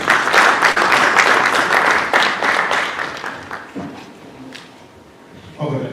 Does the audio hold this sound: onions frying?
no